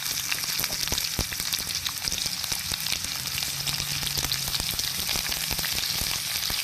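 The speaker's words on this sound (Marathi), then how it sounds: "आता आपण जिऱ्याची फोडणी देऊया जिरं चांगलं तडतडल्यानंतर त्यात अर्थातच कांदा आणि थोडंसं कोथिंबीर" Onion and coriander fry in a cumin tempering with a steady, dense sizzle and faint crackles running throughout, close and alone with no voices.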